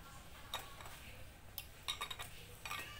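Faint, irregular metallic ticks from loosely adjusted valve tappets sound over a low, steady engine hum of a Yamaha Mio scooter, close by, with no talking.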